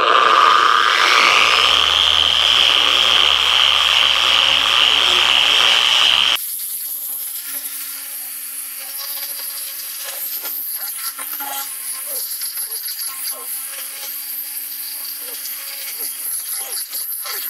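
A power sander smooths automotive body metal, running loud and steady with a whining tone, then shifting to a lower, rougher buzzing grind that continues close by.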